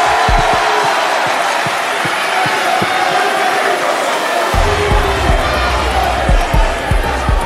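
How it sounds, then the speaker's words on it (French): A large audience at a pan-African youth gathering in Kinshasa claps and cheers loudly, dense continuous applause with whoops and shouts that swells further partway through. "applaudissez-vous, s'il vous plaît, fortement pour votre présence"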